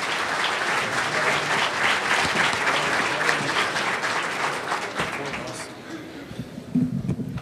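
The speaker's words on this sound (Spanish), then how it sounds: "Les pido un fuerte aplauso para él" A panel audience applauds in one long, dense burst of clapping that holds steady for several seconds, then thins out and fades as a voice starts at the end.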